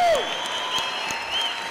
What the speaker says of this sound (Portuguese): Um aplauso para os nossos patrocinadores e os apoiadores institucionais que garantem a Campus Party.